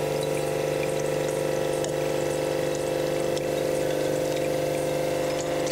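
Filtered, chlorine-free drinking water pours steadily into a glass, a continuous close liquid rush with a strong pump-like hum underneath and no talking.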